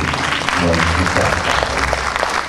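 An audience applauding a singer at a music evening: dense, sustained clapping throughout, with a voice or crowd murmur underneath.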